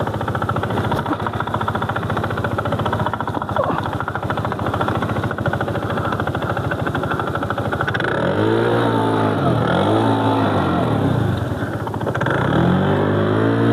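A motorcycle engine revs hard in sand, running loud and steady throughout, with pitch swinging up and down in repeated revving surges toward the end.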